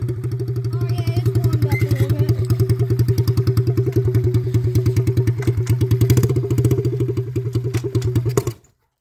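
Motorcycle engine idling while it warms up, a loud, close, steady rapid thumping pulse lasting several seconds before it cuts out abruptly.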